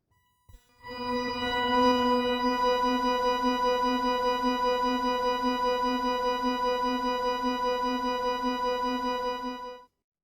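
A single sustained organ-like tone from a Boss RC-505 MKII looper's flanger and octaver effects holds steady for several seconds with a slow swirling flanger sweep and a thick octave-doubled body, then cuts off.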